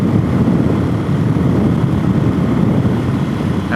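A DRZ470S motorcycle engine during a break-in ride drones as the throttle is eased off, a steady loud low rumble mixed with wind rush, with no speech.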